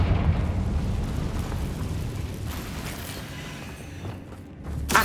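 A Confringo explosion spell in Hogwarts Legacy lands as a heavy, rumbling boom that rolls and slowly decays, with crackling debris and a second low thud near the end.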